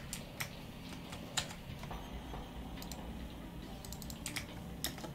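A computer keyboard clicks in scattered bursts of keystrokes over a low hum during a Destiny 2 gaming session, close and fairly quiet, with no speech.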